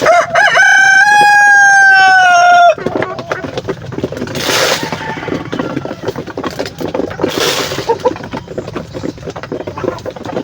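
A rooster crows loudly up close for nearly three seconds, its long wavering call the dominant sound, followed by softer clucking from a flock of native chickens against steady outdoor background noise during morning feeding.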